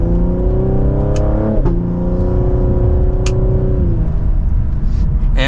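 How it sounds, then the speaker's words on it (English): A 2024 Cadillac CT5-V sedan pulls from second gear under mild throttle, its engine note climbing steadily in pitch, then a shift and another rising pull, heard from inside the cabin. "And with a mild acceleration, this definitely has a lot more potential than what I'm throwing at it today."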